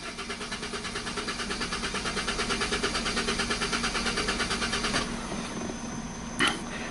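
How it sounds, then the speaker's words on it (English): A 2010 Hyundai Sonata GLS 2.4L with a failing fuel pump cranks without starting. The starter makes a rapid, rhythmic whirring that holds steady for about five seconds, then stops and leaves a faint hum and one brief clunk. "So I'm gonna crank the engine and watch the data PIDS"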